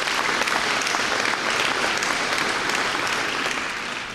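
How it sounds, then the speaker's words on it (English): Audience applause at a military employers summit, a dense, steady wash of clapping from a crowd that holds strong and eases off slightly at the end. "That deserves an applause, too."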